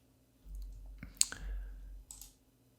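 A single computer mouse click, sharp and close, lands against a quiet room background with a faint low hum and no talking.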